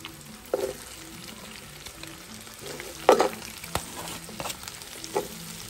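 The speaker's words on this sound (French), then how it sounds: "Je vais lâcher les oignons." Onions hitting hot fat in a cooking pot for a Réunion-style rougail with andouille sausage, a steady sizzle with a few louder bursts and stirring scrapes, close by and without talk.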